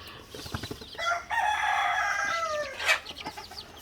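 Nearby chickens cluck in short bursts, then a rooster crows in a long, loud call, followed by more clucking.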